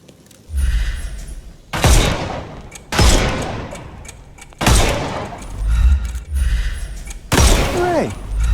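Gunfire in a Sherlock Holmes game shoots armour off enemies: a series of loud, close shots in separate heavy bursts with metallic clanks and thuds, roughly one burst per second, each ringing out briefly.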